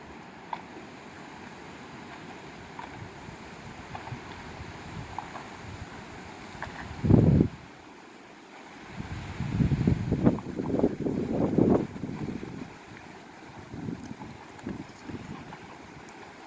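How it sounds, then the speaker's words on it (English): Wind rumbles and buffets against the microphone outdoors in the Les Cheneaux Islands, rising into strong gusts midway, then settling back to a low, rushing background. "Windy out there."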